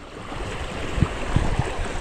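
Sea water surging up toward a creek on a rising tide, a steady broadband wash with a few soft low swells, close and continuous with no voices.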